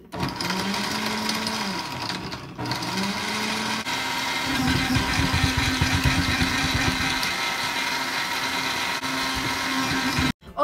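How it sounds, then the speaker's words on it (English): A blender whirring through a dog food smoothie with tomato, a continuous motor whine that shifts pitch as the contents churn, running steadily for about ten seconds before cutting off abruptly, close and loud with no talking. "So let me just blend."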